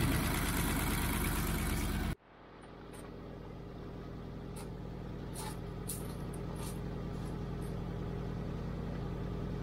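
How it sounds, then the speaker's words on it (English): A Triumph Stag engine idles steadily after a loud burst cuts off, its low rumble with an exhaust blow running alone and close, with a few faint clicks and knocks over the top. "Got a blow on the exhaust down here somewhere."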